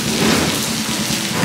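Heavy rainy-season downpour in Cartagena, Colombia, with thunder: loud, close rain hisses and rumbles continuously in a brief, dense burst with no voices.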